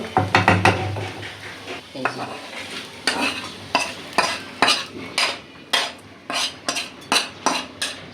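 Garlic frying in mustard oil in a pan, stirred with a utensil that scrapes in quick repeated strokes over a steady close sizzle; no talking.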